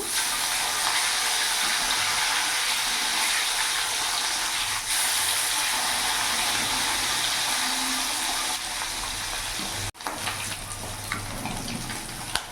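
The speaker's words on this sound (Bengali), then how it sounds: "মাছটা এক পিঠটা ভাজা হয়ে গেছে, আমি এবার উল্টে দেবো।" Katla fish pieces, fried two at a time in refined oil and flipped to brown the second side, give a steady, rushing, close sizzle that dips briefly near the end before resuming.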